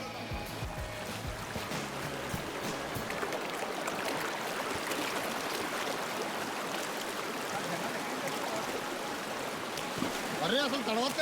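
Broadband rushing river water fills the scene as someone wades into the Narrows, a slot canyon in Zion National Park; the flow is steady and close, with splashing swells near the end.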